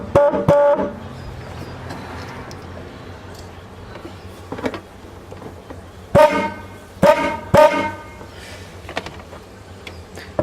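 An old car horn being tidied up gives a short honk at the start, then three sharp, loud blasts later on, with clunks and handling noises in between.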